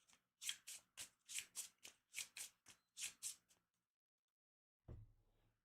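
Enemy cards are shuffled back into the deck in a card game: a quick run of about a dozen crisp riffling bursts in steady rhythm, then a pause and a single soft low thud.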